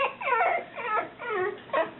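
A pet dog lets out several wavering howls and whimpers in a row, close by and fairly soft, with no talking.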